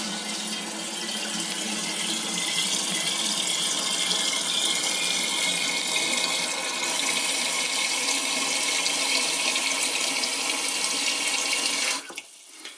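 Steady loud rush of tap water pouring into a Pinter home brewing keg, a continuous hiss close by that runs unbroken before cutting off abruptly near the end.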